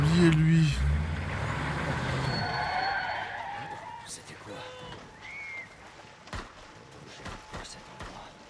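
A pursuing vehicle in The Last of Us Part 1 skids loudly with an engine roar, then fades into scattered tire screeches and clatter while someone talks over it.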